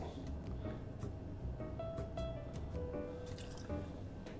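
Yellow Chartreuse is poured into a mixing tin for a Death Flip cocktail, a short liquid trickle with wet splashy drips and light clinks, close and quiet with no talk.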